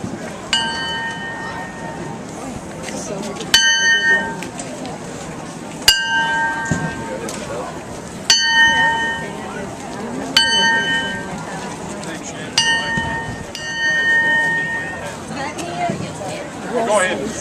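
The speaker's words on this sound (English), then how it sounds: "We will ring the bell now for 21 times." A ceremonial bell at an American Legion post memorial ceremony is struck repeatedly, each ring landing every two seconds or so with a bright metallic decay, while a crowd murmurs and people talk softly in the background.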